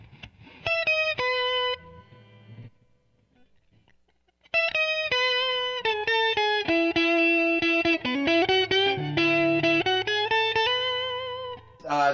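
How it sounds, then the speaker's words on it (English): An electric guitar played through the octave effect of a Line 6 M5 pedal rings out in clear melodic phrases, with a short pause before a longer run of notes, loud and alone. "So here is just an octave tone."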